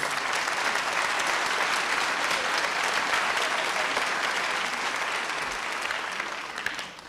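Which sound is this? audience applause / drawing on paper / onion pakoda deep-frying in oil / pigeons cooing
audience applause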